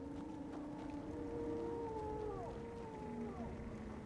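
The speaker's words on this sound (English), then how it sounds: "Wolf howling." A wolf howls in Skyrim's ambient soundscape, long wavering tonal cries that slide and bend over several seconds above a steady low outdoor bed, fairly distant and with no speech.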